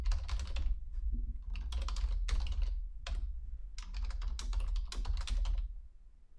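Bursts of computer keyboard typing while entering a username and password to log in to a web-based reporting system, keys clicking quickly and close in several clusters with brief pauses, no voices.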